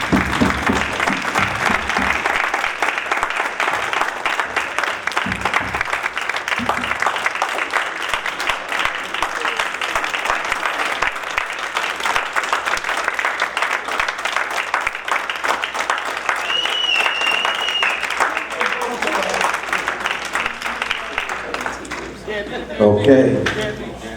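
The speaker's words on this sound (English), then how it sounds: "Let's give Madam Payne a round of applause." A board meeting audience applauds Madam Payne with sustained, dense clapping for over twenty seconds, loud and steady, then tapering near the end. Voices mingle faintly beneath the clapping.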